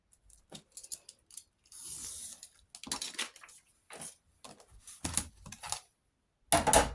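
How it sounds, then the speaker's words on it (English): Scissors snip off excess decorative paper while making flips and pockets for a craft project, giving a series of short, crisp cuts and rustles in irregular bursts, close and fairly loud. "So let's cut some of that off."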